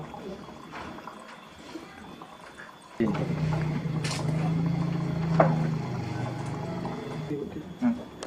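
Coolant poured into a car radiator during maintenance, a steady liquid pour starting abruptly and running on at close range, with speech heard throughout.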